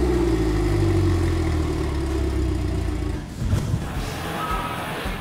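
A Lund aluminum fishing boat's outboard engine running, a loud steady low drone that shifts and settles partway through, heard close with no speech.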